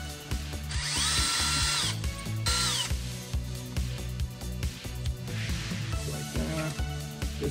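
A power hex driver with a 2mm bit spins out the ESC bolts on a Traxxas K10 RC vehicle in two short, rising whirs over steady background music, close and fairly quiet.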